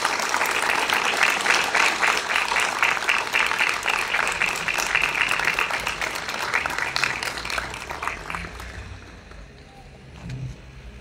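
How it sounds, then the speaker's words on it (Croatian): Loud sustained applause from a large audience at a formal town council ceremony in Glina, Croatia, greeting a general, dense clapping that gradually thins and fades out toward the end. "molim vas da sad svi jednim velikim pljeskom pozdravite našeg generala, gospodina Mladena Markača"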